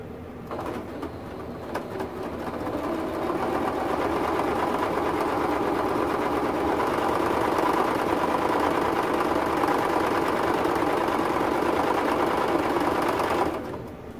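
A sewing machine runs steadily for a long stretch, stitching a seam across a paper-pieced quilt block. A few clicks come first, then a continuous close whirring hum that stops near the end, with birds cooing faintly in the background.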